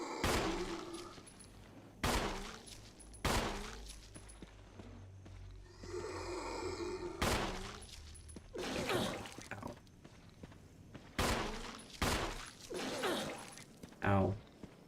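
Loud single gunshots ring out every couple of seconds as zombies are shot in a graveyard in a Resident Evil game, with a voice talking between the blasts and a burst of rattling mid-clip.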